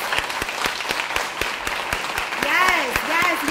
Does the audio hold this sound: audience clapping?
yes